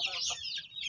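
Native chickens clucking nearby, a quick cluster of short, high, chattering clucks in a brief burst, moderately loud and close.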